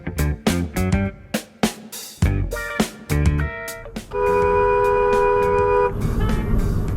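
A car horn honks in traffic: several short toots, then one long, loud sustained blast before the street noise returns.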